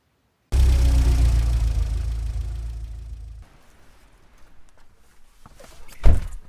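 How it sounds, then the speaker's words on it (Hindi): A vehicle pulling up in a courtyard in an audio drama, a loud engine rumble that fades as it stops, followed by quiet shuffling and a door-like thunk. "अचानक आंगन में गाड़ी रुकने की आवाज आई।"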